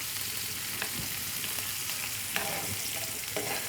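Browned onion tempering (bagar) sizzles steadily in a hot pan, a dense, continuous frying hiss close by, with a few faint stirring clicks now and then.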